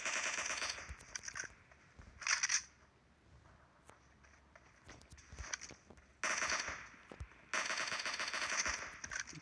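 Gunfire in the mobile battle-royale game PUBG Mobile: several sharp automatic bursts, each roughly a second long, separated by quieter gaps with faint movement sounds, and no talk.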